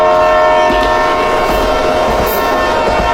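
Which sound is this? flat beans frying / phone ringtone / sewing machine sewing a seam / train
train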